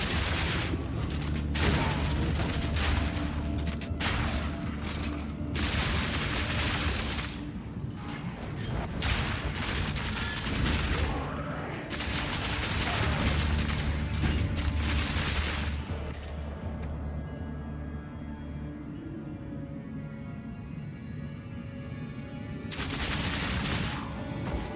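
Rapid shotgun fire from a Path of Exile game character, dense overlapping blasts and mechanical clatter sustained for most of the stretch, then thinning to a quieter hum before a final loud burst.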